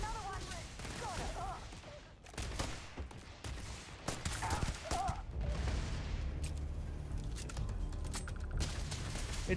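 Gunfire rattles in Starfield, bursts of shots and clatter mixed with combat noise, with a voice talking over parts of it.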